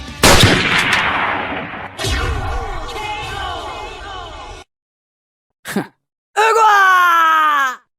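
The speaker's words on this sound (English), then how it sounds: "It looks like Spider-Man went out with a bang. A flashbang." A flashbang goes off in an animated cartoon fight as one loud, sharp blast, followed by a strained, groaning voice, a pause, a brief thump and then a rising, swooshing effect.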